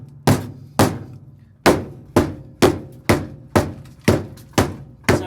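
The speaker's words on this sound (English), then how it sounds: "you can get your chisel in there as well and kind of get under stuff" Steel chisel strikes on dry-ice-frozen sound deadening on the floor of a Mazda RX7 rally car build, about ten sharp, loud knocks in a steady rhythm, each with a short ringing decay, close up with no talk.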